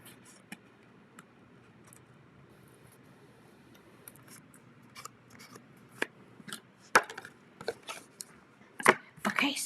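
Scissors trim the white bits off a die-cut paper card in sparse, crisp snips, faint at first and growing louder and more frequent toward the end, with no talk.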